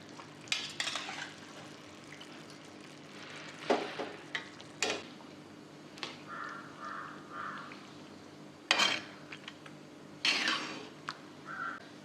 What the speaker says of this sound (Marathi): या पाकात आता आपण लिंबाच्या फोडी घालू.